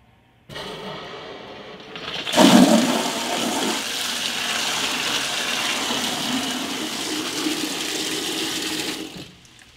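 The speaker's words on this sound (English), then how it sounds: "we're just going to turn our cold water on to bring in some fresh water." Cold water from a tap flushing through a hose into a bucket, starting with a sudden loud gush and settling into a steady rushing pour close by before cutting off.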